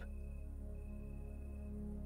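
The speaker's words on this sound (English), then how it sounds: "the sound of the crickets outside can be heard" Crickets chirp outside at night in a pulsing, steady trill, quiet and continuous over a low background hum.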